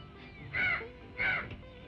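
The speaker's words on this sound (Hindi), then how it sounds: "तू जानता है कौवा क्यों बोल रहा है?" Two harsh caws from a crow, evenly spaced about half a second apart, moderately near over a faint background hum.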